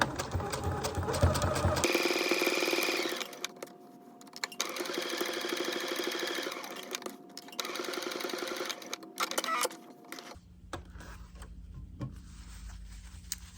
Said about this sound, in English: I keep lifting the foot up just to see if I can do one more stitch and make it fit better